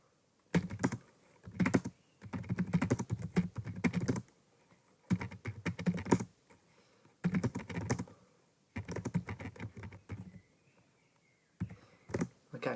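Fingers type on a computer keyboard in quick bursts of clicking keystrokes, broken by short pauses. The sound is close and quiet, with no voices.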